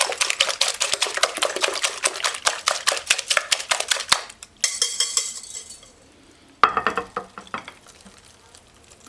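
Eggs whisked in a bowl for a frittata, a rapid run of rhythmic clicking strokes close by, pausing briefly before a second, shorter burst of whisking.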